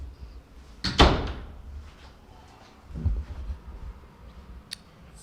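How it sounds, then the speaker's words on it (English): A basement door in an empty house opens with a sharp thud and rattle, followed by a softer knock a couple of seconds later and a faint click at the end, in a reverberant room. "This door right here goes to the basement"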